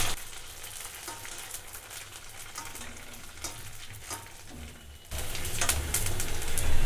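Puris for panipuri puffing in very hot oil, a steady broad sizzle and crackle that swells louder for the last couple of seconds as more dough goes in.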